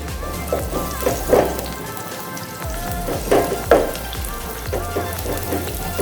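Onions fry in hot oil in a pan on a stove: a continuous close crackling sizzle with scattered pops and a few louder stirring scrapes, with no one talking.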